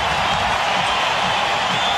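Basketball arena crowd roaring and cheering after a slam dunk at the 1993 Slam Dunk Contest, a steady loud wash of massed voices with no individual words, continuous throughout.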